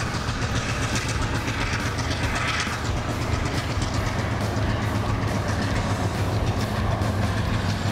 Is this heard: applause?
no